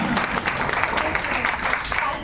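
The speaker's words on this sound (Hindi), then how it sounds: "ये मेरे लिए जोरदार तालियां" Loud applause fills a club program hall, a dense, steady patter of many hands clapping at full volume without pause for a couple of seconds.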